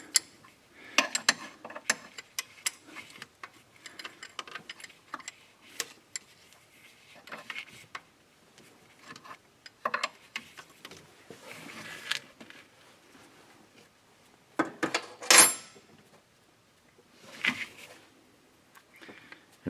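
A wrench works a fitting loose on a 2002-2005 Dodge Cummins during a bypass filter install, giving sparse close metallic ticks, clicks and ratcheting scrapes in irregular bursts separated by quiet gaps.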